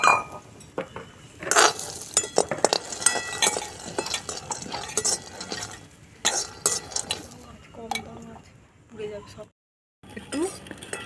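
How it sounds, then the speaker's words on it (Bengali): Gram flour batter for spicy peanuts is stirred in a bowl with a spoon, giving repeated close clinks and scrapes of metal on the dish in an uneven rhythm, with a short quiet break near the end. "অল্প অল্প জল দিয়ে একটু শক্ত করে ব্যাটার তৈরি করে নেব।"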